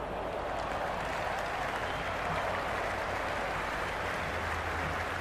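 A cricket crowd at a T20 World Cup match between England and Pakistan applauds and cheers in a steady, dense roar of clapping and crowd noise lasting the whole stretch.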